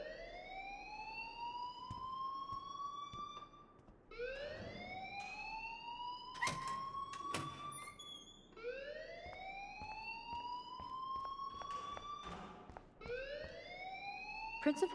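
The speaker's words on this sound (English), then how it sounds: "please turn off that alarm since that's your job" School fire alarm in the Life is Strange video game, a loud rising electronic whoop repeating roughly every four seconds, with brief clanks and other game noises between sweeps.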